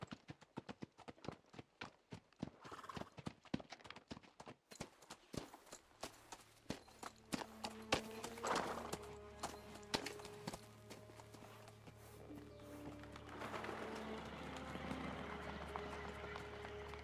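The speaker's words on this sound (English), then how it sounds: "That sounds like horses." Horses trot in Kingdom Come Deliverance 2 on a misty morning, a steady clip-clop of hooves building from a faint approach to a clear, continuous run over ambient game music.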